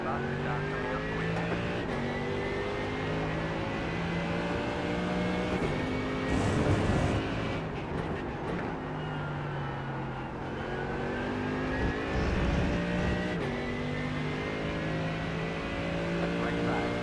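Faster GT3 race car closing in during a sim race at Donington, engine whine rising and shifting pitch as it approaches, steady loud motor drone throughout with intermittent voices.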